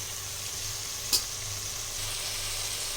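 Chicken frying in masala with curry leaves for a restaurant-style chicken kulambu gives a steady, close sizzle throughout, with one brief sharper crackle partway through and no talking.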